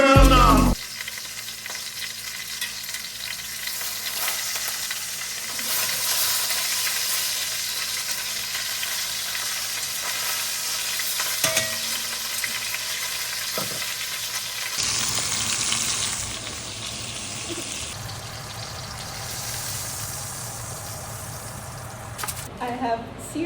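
A big beef roast searing in a pan makes a loud, steady sizzle that fills the whole stretch, shifting in tone partway through.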